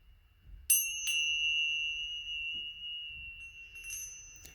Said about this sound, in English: Pile number 2 is this tiny little bell